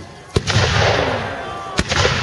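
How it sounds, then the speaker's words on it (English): Tudor artillery guns fire on the field at a Battle of Bosworth reenactment: two sharp, loud booms spaced well apart, each rolling into a long rumbling echo over steady crowd and outdoor noise. "Tudor's guns exploding on the field."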